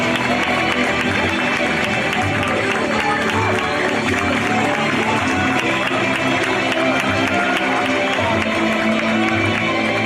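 A crowd applauds and cheers for a player at an under-17 football cup final, a steady wash of clapping and voices sustained throughout, with an announcer talking over it.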